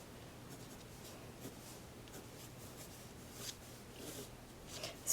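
Pencil sketches on paper in soft, faint scratchy strokes, irregular and close, with quiet room background and no talking.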